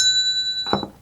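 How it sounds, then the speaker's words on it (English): A small bell rung once with a clear sustained ring, followed by a brief clunk as it is set down, close and fairly loud. "got to ring the bell."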